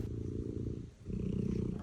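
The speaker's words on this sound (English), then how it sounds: "I think he was happy too because listen to his purr." A cat purrs close up, a low steady rumble with a short dip in the middle before it swells back.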